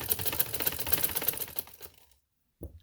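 A sewing machine runs in a rapid mechanical patter for about two seconds while stitching along a fabric edge. It stops briefly, then starts again.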